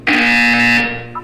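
A flat electronic buzzer from the video game Portal 2 blares once, loud and harsh, holding for under a second before cutting off and fading into a short quiet tail.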